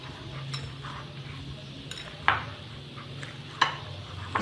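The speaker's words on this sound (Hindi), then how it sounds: "इसको अच्छी तरह से हमने मैश करना है" Boiled potatoes are mashed and mixed in a bowl for spicy potato cutlets, with soft squishing and scraping plus a few sharp clinks of a utensil against the dish, close and unvoiced.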